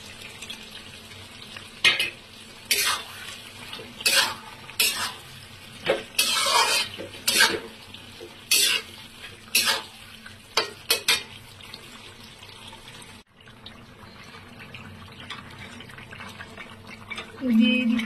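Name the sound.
stirring a shrimp dish frying in a pan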